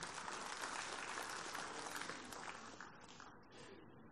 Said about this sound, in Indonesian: Ya beri tepuk tangan dong.